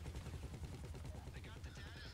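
Video game gunfire in GTA V Online: rapid rattling shots blended into a thick, steady wall of game noise, with voices talking over the action.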